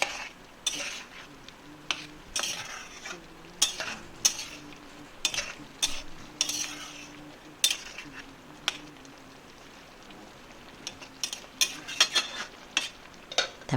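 A spoon stirs ground cashew paste into a pan of coriander-leaf chicken curry, with scraping strokes and light metallic clinks against the pot coming in an uneven, repeated rhythm. The sounds are close and fairly quiet, with no talking.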